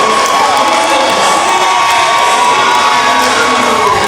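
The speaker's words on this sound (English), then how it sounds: "You can hear the crowd." A home crowd cheers and shouts at a college basketball game between Calhoun and Shelton State, a loud, continuous roar of voices and whoops right after the final shot, with no talk over it.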